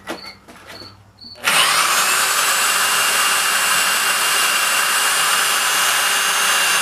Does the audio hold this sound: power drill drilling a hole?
yes